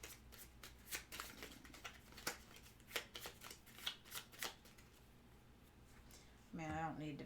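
Playing cards for the Pathfinder Adventure Card Game are shuffled by hand in a series of quick riffling bursts, fairly near and crisp, and a voice briefly starts talking at the very end.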